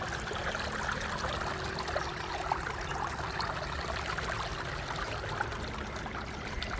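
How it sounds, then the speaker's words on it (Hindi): A stream rushes steadily nearby, a continuous even wash of flowing water with no pauses. "पानी का शोर चेक करें।"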